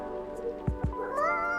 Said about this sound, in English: I don't think this is the coffee drinking sort of cat.